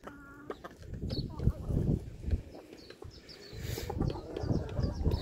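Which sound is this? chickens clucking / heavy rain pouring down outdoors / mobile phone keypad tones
chickens clucking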